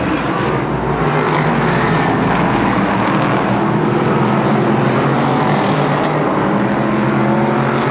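Race cars roaring around a short track speedway in a loud, continuous, dense engine drone with shifting pitch as the pack circles near the final lap.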